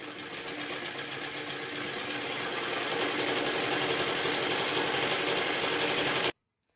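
A sewing machine stitches along the neckline of a blouse, a fast, steady mechanical whir with rapid needle clatter running continuously at close range before stopping abruptly.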